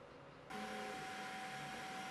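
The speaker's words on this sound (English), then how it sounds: "Printer heats up and continue where it left off." A Creality K1 fast FDM 3D printer starts up partway through, its fans and motors rising into a steady, faint whirring hum with a constant whine as it heats up and resumes printing.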